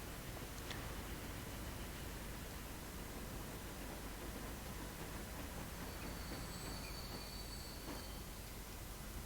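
The Stoczniowiec train on the Królewski Brzeg line runs in a steady, unbroken rumble of rail noise that stays even and moderately loud throughout, with faint ticks and a brief high whine near the end.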